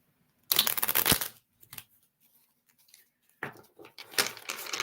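Cards riffle-shuffled in several quick bursts, close and crisp, with short pauses between, no talking.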